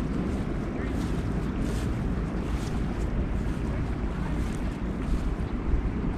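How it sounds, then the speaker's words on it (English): River rapids in Yellowstone National Park, a steady loud rush of flowing water mixed with wind buffeting, continuous from start to finish. "There's more rapids up there."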